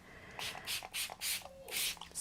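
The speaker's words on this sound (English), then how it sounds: "Spraying that with my rubbing alcohol again, so I can clean the stencil really quick." Rubbing alcohol sprayed onto a stencil in about five quick, close hissing bursts, each short and sharp with brief gaps between them.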